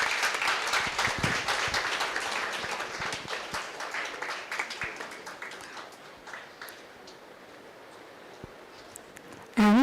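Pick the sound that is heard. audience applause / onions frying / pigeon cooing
audience applause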